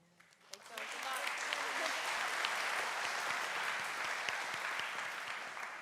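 A crowd at a FIRST Robotics Competition kickoff ceremony in Atlanta, Georgia breaks into applause that swells quickly and holds as a sustained, dense patter of clapping.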